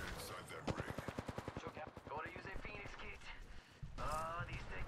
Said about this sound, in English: Oh, God. People are firing.